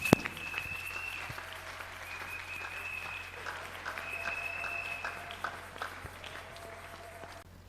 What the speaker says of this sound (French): Et quand ils passent devant, applaudissez pour eux.